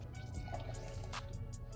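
A can of Bush's light red kidney beans poured into a pot of beef stew, a faint wet glugging and dripping that runs quietly for a couple of seconds.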